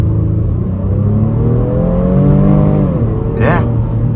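A 2023 Honda Pilot Touring SUV pulls away in second gear, its engine note rising steadily in pitch as it accelerates, loud and close, before a brief shift-like break near the end.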